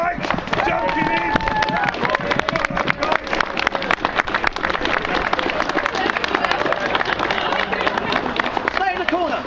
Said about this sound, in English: Guys, massive, massive round of applause to the Mayhem Knights jumping in